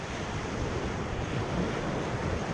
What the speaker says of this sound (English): waves splashing on the shoreline here.